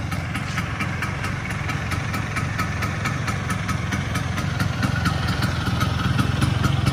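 A 1986 Vespa PX scooter engine idling up close: a loud, steady two-stroke putter with a fast, even pulse and faint metallic ticking, holding for several seconds and rising slightly toward the end, with no talking.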